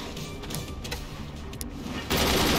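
Mortars firing in the artillery strategy game Forts: a dense, continuous barrage of rapid blasts and thumps, one volley after another, growing heavier and louder near the end, with no talking.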